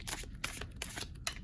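Tarot cards being shuffled by hand in a riffling, crackling run with a few sharper snaps, close and fairly quiet, with no voices.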